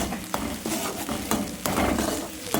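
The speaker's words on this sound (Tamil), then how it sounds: "நல்ல இந்த எண்ணெயிலே பொன் நிறமாக வதக்கிட்டு" Onions sauté in oil while a spatula scrapes and stirs them in a pan, making rhythmic sharp strokes about every third of a second over a continuous close sizzle.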